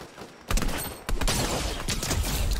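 Rapid bursts of gunfire in Fortnite, a loud crackling volley starting abruptly and continuing in dense overlapping shots, with a brief second onset partway through.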